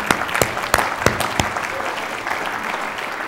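Audience clapping at a talk on a millennial vision, with sharp individual claps standing out early over a dense, steady wash of applause that carries on evenly throughout.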